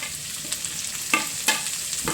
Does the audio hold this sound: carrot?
yes